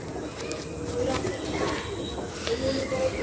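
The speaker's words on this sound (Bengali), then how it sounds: "ফ্লাইংয়ের জন্য খুব ভালো পায়রা" Madrasi flying pigeons coo in a loft in India, soft throaty murmurs recurring through the stretch at close range beneath someone talking.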